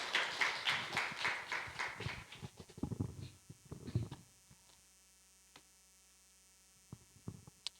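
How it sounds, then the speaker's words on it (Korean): A church congregation applauds during a Sunday service: a dense burst of clapping that thins into scattered claps and fades after about four seconds, leaving a steady low hum with a few faint knocks. "우리 한번 박수 한번 힘있게 보내주시면 감사하겠습니다"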